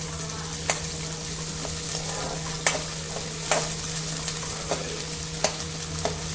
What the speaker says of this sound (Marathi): हे तेलामध्ये छान भाजून घ्यायचं।